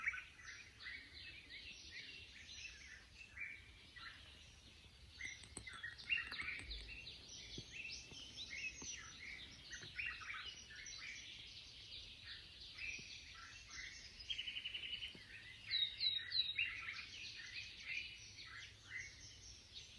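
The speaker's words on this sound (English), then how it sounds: "Just listen to the birds." Many birds chirp and sing together in a dense, steady chorus in a Rwandan mountain forest, fairly quiet and distant, with no voices.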